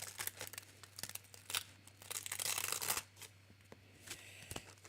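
Backing being peeled off a paper card for a folded greeting card, heard as faint, close crinkling and tearing rustles, with a longer steady peel in the middle and no talking.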